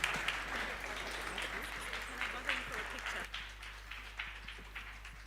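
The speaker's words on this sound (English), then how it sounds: "Give our panel a warm round of applause." An audience at a Charlotte Maxeke lecture with the Deputy President present gives a panel a round of applause, moderate and somewhat distant clapping with a steady mains hum underneath, tapering toward the end.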